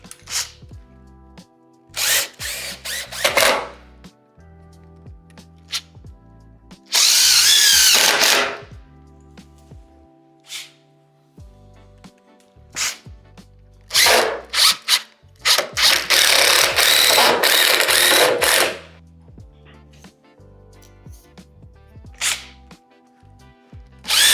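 A cordless power drill drives screws into a heavy-duty pocket door frame in several loud bursts of whirring, with quieter handling, rubbing and tool noises between them and no talk.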